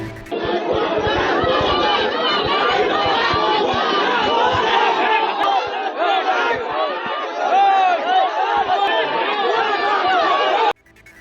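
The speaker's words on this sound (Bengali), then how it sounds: "জুতো দেখিয়ে সংসদকে ঘিরে বিক্ষোভ গো ব্যাক স্লোগান সরকার বিরোধী" Dense crowd of anti-government protesters surrounding parliament, chanting "go back" slogans and shouting together in a loud, continuous roar that holds steady before cutting off near the end.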